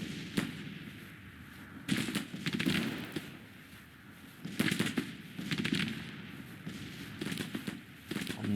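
Troops fire at will in the Civil War strategy game Grand Tactician, a distant crackle of musket volleys in ragged bursts that keep recurring under a low battlefield rumble.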